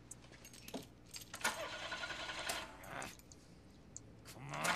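A car's engine cranks and turns over in Grand Theft Auto IV, with a few brief bursts of revving and rattling amid quiet game ambience and a rising hum near the end.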